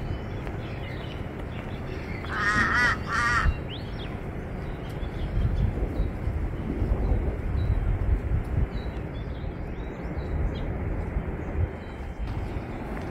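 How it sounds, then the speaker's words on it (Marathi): A bird in a treetop at Vashisht village near Manali gives a short burst of two or three clear, warbling calls early on, then only low outdoor rumble continues, with no further calls. "या झाडाच्या शेंड्यावरून पक्ष्याचा वेगळाच आवाज येऊ लागला"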